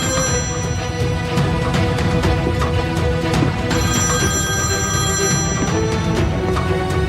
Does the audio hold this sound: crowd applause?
no